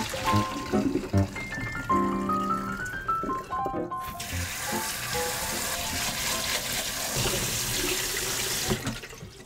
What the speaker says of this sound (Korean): 쑥갓이 숨이 죽었을 때 불을 끄고 찬물에 씻어줍니다